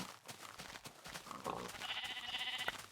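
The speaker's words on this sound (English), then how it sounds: "Oh, lots of sheep." Blocky sheep in the alpha 1.0.4 version of Minecraft bleat several times, overlapping calls near the listener amid light game noise and clicks, with no voices.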